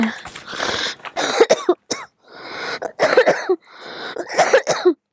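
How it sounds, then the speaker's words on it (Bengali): Someone coughs repeatedly in harsh bursts, several rough coughs clustered in short fits with brief pauses between, close to the microphone. "এই কাশিটা সবার হচ্ছে, আমারও হচ্ছে"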